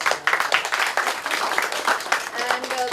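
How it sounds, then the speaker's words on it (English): A conference audience applauds in a short, fairly close burst of uneven claps, mixed with voices. "let's give them a round of applause"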